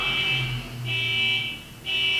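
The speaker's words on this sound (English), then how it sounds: "don't mind the car alarm going off" A car alarm goes off somewhere in a residential neighborhood, carrying a steady electronic tone in repeating long blasts with short gaps between them, fairly loud over a low background hum.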